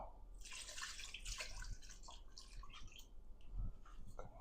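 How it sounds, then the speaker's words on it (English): Water pouring from a tap into a pot over oxtails for an oxtail boil, a soft continuous splashing trickle with small drips, fairly quiet and close, with no talk. "So just going to add some more water in here, and then just make sure they're covered up."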